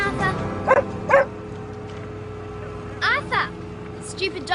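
A dog named Arthur barks a few short times outdoors near a car, with people talking and calling around it.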